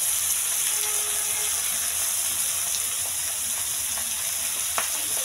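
An egg frying in a pan with finely chopped onion spread around it, giving a steady, even sizzle with occasional faint pops and clinks.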